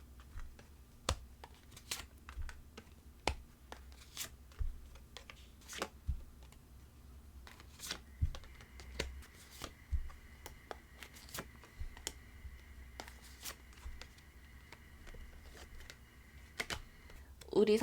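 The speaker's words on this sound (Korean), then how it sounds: "우리 3번 분들을 위한 하반기 연애운 조언 카드 같이 뽑아보겠습니다" Tarot cards are shuffled and drawn in a quiet room, giving soft, irregular flicks and taps spread across the stretch, with a faint steady background hum.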